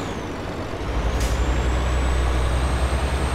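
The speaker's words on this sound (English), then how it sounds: "I meant to hit C, hit the parking brake." A truck's air parking brake engaging in Euro Truck Simulator 2, a sharp hiss of released air over a low idling engine drone that continues steadily afterward, close and fairly loud.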